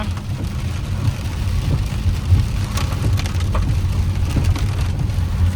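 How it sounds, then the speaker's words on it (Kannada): Heavy rain pours down in a steady, dense roar that continues unbroken throughout. "ಈಗ ಜೋರಾಗಿ ಮಳೆ ಬರ್ತಾ ಇದೆ"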